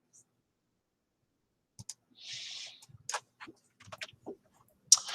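Quick bursts of typing on a computer keyboard, a short run of sharp, close clicks and taps with brief pauses between, heard alone without talk.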